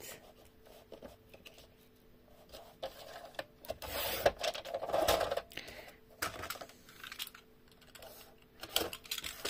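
Paper being cut for a handmade Christmas scrapbook mini album, heard as quiet scraping and rasping strokes in irregular bursts, close by with no talking.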